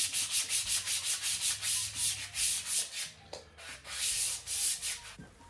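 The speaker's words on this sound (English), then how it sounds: "So we got to sand all this down to make it nice and smooth so it'll slide through the new bushing easily." A Volkswagen Sunbug shifter shaft is sanded smooth by hand, a close, rhythmic scratchy rubbing of about a dozen quick back-and-forth strokes. The strokes pause briefly, then resume a little slower.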